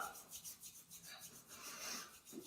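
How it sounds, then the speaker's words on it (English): Hands rub the ankle just below the ankle bone and above the heel during a morning self-massage, giving a soft, quick, rhythmic rasping friction that is close and quiet. "just below the ankle bone, above the heel, rub."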